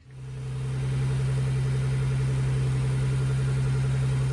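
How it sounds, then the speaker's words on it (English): Engine of a Mercedes 107 SL idling just after starting following a fuel leak repair, a steady low hum that settles quickly and stays even and moderately quiet, with no talking. "we're going to connect the battery, start the car up, and see if we've still got a fuel leak"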